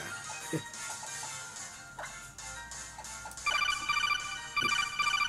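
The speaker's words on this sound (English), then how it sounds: "Oh, sounds like I have a notification." A phone notification tone in a Pokémon-themed puns game chimes twice as a bright repeating electronic jingle, loud and clear over a busy backdrop of game music and effects.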